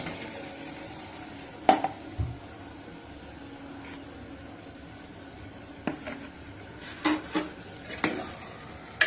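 Chicken pieces for chilli chicken go into a hot pan and are stirred, giving a quiet steady sizzle broken by several sharp clinks and scrapes of a utensil against the pan.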